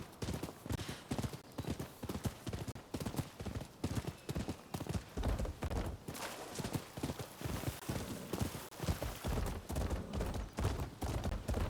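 Horse hooves clip-clopping at a steady riding pace in the video game Rise of the Ronin, dense rhythmic hoofbeats running continuously throughout, loud and close.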